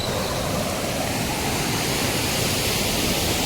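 Heavy monsoon rain in a village in Balasore, Odisha, sends water rushing strongly downhill, making a loud, unbroken broadband roar like a torrent, steady and close with no pauses.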